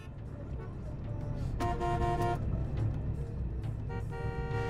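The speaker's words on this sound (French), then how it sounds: "Ça sert à rien de klaxonner" A car horn blares in sustained blasts in a street traffic jam, with a second honk shortly after, over the rumble of traffic and voices nearby.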